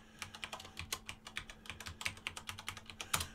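A password is typed on a computer keyboard, a quick, irregular run of close, crisp key clicks lasting a few seconds with no speech.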